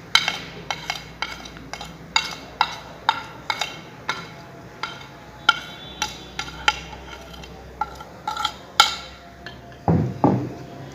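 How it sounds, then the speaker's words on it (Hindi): Spices, ginger and garlic stirred into yogurt in a bowl for a beef steam roast, heard as a steady run of light spoon clicks and scrapes against the dish, close and alone, ending in a louder scraping stir. "ये दही में अदरक, लहसुन और ये सारे मसाले डाल देने।"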